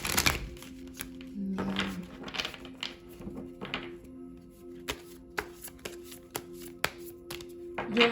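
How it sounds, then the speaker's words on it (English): Tarot cards being shuffled and handled by hand, a series of soft riffling bursts and light taps close up in a quiet room, with no talk. "now let's pick some tarot cards to support this message"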